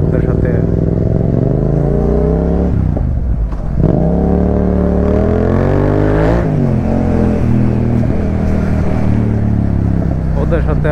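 Loud revving engine of a motorcycle with a modified exhaust, no number plate and very thin tyres, throttled up and down in sustained roaring bursts, close by, with voices talking over it.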